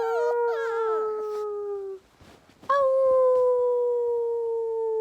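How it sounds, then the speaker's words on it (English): A dog howls in long, sliding, sustained tones close by, two drawn-out howls separated by a brief pause with a short exclamation from a person. "I'm trying to get her to howl."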